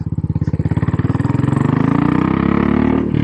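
A Royal Enfield Military Classic 500 motorcycle thumps along a gravelly road with a steady, rhythmic single-cylinder beat, loud and close, settling into a smoother drone with no talking.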